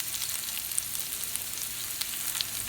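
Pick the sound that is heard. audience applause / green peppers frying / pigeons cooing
green peppers frying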